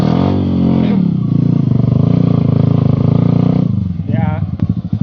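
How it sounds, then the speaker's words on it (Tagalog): A Honda XR 150L-type motorcycle revs loudly on an enduro trail in Western Pangasinan with close, pulsing throttle bursts and a rattling idle. Excited voices shout over it. "Kinakadyot-kadyot niya yung motor niya."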